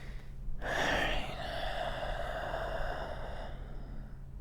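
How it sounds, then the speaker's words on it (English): Slow, soft breathing during a whispered relaxation exercise: one long airy inhale swelling in, held steady for a few seconds, then easing off, close to the microphone. "Just follow along with my breathing"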